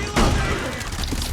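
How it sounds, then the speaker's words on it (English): A stun grenade detonates in the video game Rainbow Six Extraction, a loud sudden blast followed by a dense, sustained rumble of explosive noise and gunfire-like crackle through the rest of the moment. "Stun grenade!"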